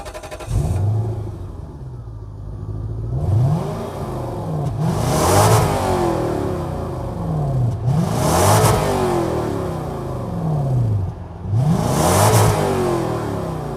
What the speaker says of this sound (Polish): Także może teraz najpierw posłuchacie tej aksamitnej pracy V8.